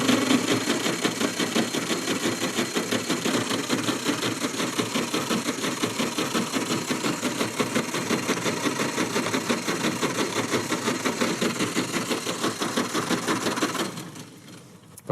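A Ford Model A engine runs steadily and loudly on its own, its dense rapid firing rhythm holding even for about fourteen seconds before cutting out abruptly.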